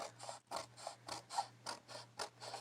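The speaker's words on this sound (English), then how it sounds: "it will not go through my printer" A home printer repeatedly grinds and catches while trying to feed thick cardstock, a rhythmic series of about nine mechanical whirring strokes over a steady low hum, fairly quiet and close.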